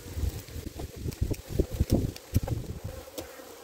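Honeybees buzzing at a beehive while trying to push out polystyrene, a close, fluctuating hum with rapid rustling and bumping bursts.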